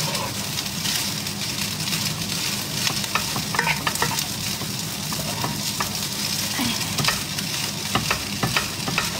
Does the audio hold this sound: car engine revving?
no